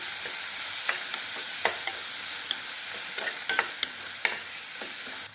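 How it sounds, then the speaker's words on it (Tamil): Chopped tomatoes with turmeric sautéing in a pan give a dense, bright hiss, broken by occasional spatula taps and scrapes, steady and close, with no talking. "தக்காளி நல்லா வதங்கிடுச்சு"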